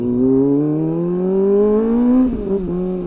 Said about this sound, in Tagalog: At saka yung symphony nitong 4-cylinder engine.